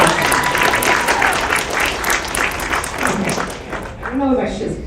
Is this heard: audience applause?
yes